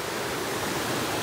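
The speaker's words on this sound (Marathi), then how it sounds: "वॉटरफॉलचं पाणी येते आणि बाजूलाच मंदिर आहे." Water from a waterfall beside a centuries-old stone temple in Goa, a steady, dense rush of falling water that stays even and unbroken throughout, with no voices.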